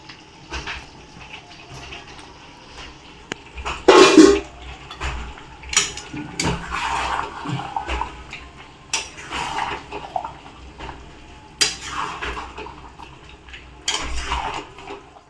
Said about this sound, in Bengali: এখানে চিকেন কষা হচ্ছে আর এখানে আগে লবণ হলুদ দিয়ে আলু ভাজা হয়েছে এটা এখন দিয়ে দেবে চিকেনের মধ্যে